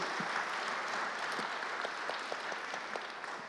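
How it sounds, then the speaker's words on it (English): An audience at a UN World Geospatial Information Congress 2022 plenary session claps steadily for panelists, a dense patter of many hands filling the room without cheers, fading slightly toward the end. "give our panelists a strong hand of applause"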